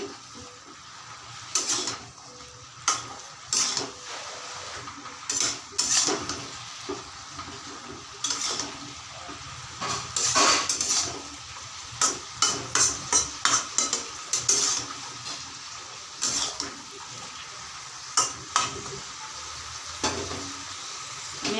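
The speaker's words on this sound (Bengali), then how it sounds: "ঢাকা খুলে দেখে নিচ্ছি, নাড়াচাড়া করে দেব" A pan lid comes off and a spoon stirs bottle gourd greens frying in a pan, a soft sizzle running underneath with clusters of scraping, clinking stirs, close and fairly quiet, with no talking.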